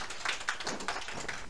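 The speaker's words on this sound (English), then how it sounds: "Let's give him a round of applause." Scattered clapping from a classroom of students, a light, uneven patter of hands that swells and fades over a moment, fairly close with no voices on top.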